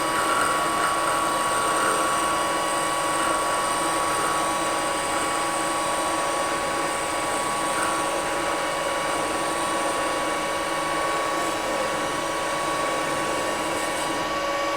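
Cutting machine bit making a slow finishing pass, a continuous whining, grinding machine drone with steady high tones, constant and close for the whole stretch.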